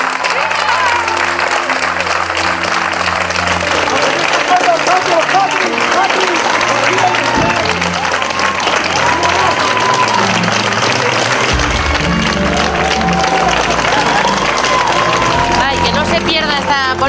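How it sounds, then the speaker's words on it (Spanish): Sustained applause and cheering ring out from a street and surrounding balconies in support of SAMUR emergency health workers, loud and continuous throughout, with crowd voices mixed in. "con este sonoro aplauso que se empieza a escuchar de aquí"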